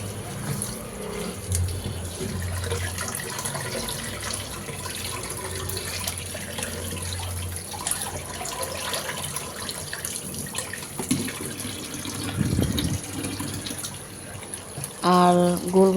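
Cut pointed gourd and a chopped potato rinsed under a running kitchen tap, with a steady water splash and soft clinks of vegetables and a bowl, ending in brief louder knocks.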